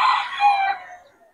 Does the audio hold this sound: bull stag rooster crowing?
yes